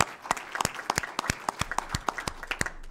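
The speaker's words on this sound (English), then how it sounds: "Let's give Representative Reeves a big round of applause" Audience at a city council meeting clapping for a state representative: a sparse round of distinct hand claps with an uneven rhythm, moderately close and fairly quiet, with no talk over it.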